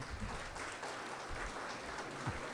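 An audience applauds at a Ventura County Educators' Hall of Fame enshrinement speech, with soft, steady clapping from a room full of people that stays fairly distant and quiet.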